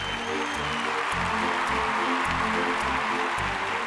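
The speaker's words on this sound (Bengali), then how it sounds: "আমি ওনাদের জন্য একটা জোরে হাততালি চেয়ে নেব।" A studio audience on a televised singing competition stage claps for a contestant's parents, a steady wash of applause over a low rhythmic music bed.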